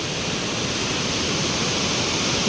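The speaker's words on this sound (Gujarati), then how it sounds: "ફિલહાલ તમે કેટલું વિશાળ પાણી જઈ રહ્યું છે" The flooded Harnav river at Khedbrahma rushes past at night near a large bridge, producing a steady, loud, continuous roar of churning water with no breaks.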